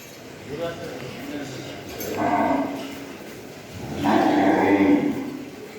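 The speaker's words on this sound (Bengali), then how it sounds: "আসো আসো, আরেকটা গরু আসতেছে।" Cattle moo in two long, loud calls at a livestock farm in Bosila, Dhaka, ahead of Qurbani, with people talking and calling out around them.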